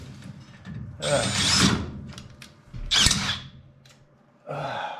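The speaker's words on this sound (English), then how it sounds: "let's try a new drill bit" A power drill whines in three bursts, grinding into metal while installing Saginaw power steering on an FJ40 Land Cruiser, with pauses and faint clicks between runs.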